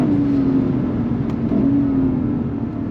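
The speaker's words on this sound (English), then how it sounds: "Downshifts are superb." A 2024 Lexus IS 500 F drops through gears on paddle shifts, a loud, steady engine drone heard from inside with a brief dip and blip in pitch partway through.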